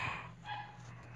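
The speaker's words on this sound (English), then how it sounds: "My dang dog, what's now?" A dog gives a single short bark indoors, faint and brief, with no talk over it.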